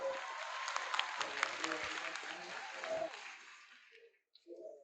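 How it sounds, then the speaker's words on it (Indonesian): A burst of audience applause at a university orientation event, with scattered claps that swells and then fades away, followed by a brief murmur. "Tepuk tangan."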